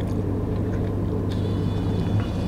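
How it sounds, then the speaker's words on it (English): A loud Mustang engine rumbles steadily at close range, a deep continuous drone with no pauses. "That loud ass car for no reason."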